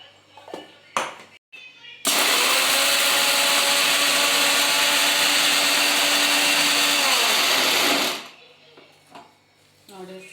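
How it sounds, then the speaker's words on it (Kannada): A kitchen mixer grinder pulverizes peanuts in a loud, steady high-pitched whir lasting about six seconds, its pitch dropping slightly just before it cuts off, with brief clatters and talk around it. "ಇದಿಷ್ಟು ಮಿಕ್ಸರ್ ಹಾಕೋತೀನಿ ನಾನು"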